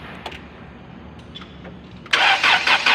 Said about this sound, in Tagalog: maririnig nyo na wala namang hard starting